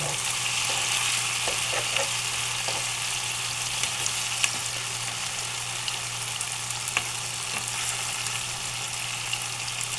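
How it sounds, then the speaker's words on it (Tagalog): Tofu frying in a pan for a kangkong and oyster sauce dish, giving a steady, close crackling sizzle that holds evenly for the whole stretch with no one speaking. "Ayan po, piprito muna natin yung ating tofu."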